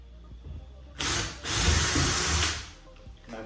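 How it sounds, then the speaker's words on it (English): A power drill bores a test hole into a ceiling to check for timber, a close, steady whirring grind lasting about a second and a half, preceded by a short burst and surrounded by quieter handling noise. "I'm going to just drill a hole to make sure there's no timber there"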